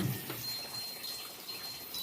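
Water rushing steadily into a washing machine running on a solar power setup, a continuous broadband gush with a faint high tone, close and alone with no talk.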